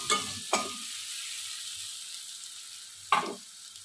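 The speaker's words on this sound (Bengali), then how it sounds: "পেঁয়াজগুলো আমি লাল লাল করে ভাজা ভাজা করে নেব।" Onions being stirred and fried in hot oil in a pan: a continuous sizzle broken by three distinct scraping stir strokes, near and clear with no talking.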